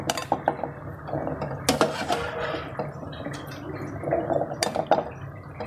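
Metal pots, a wok and utensils clatter and scrape repeatedly as restaurant-style chicken karahi is served out, close and busy, with sharp clanks standing out and no talking.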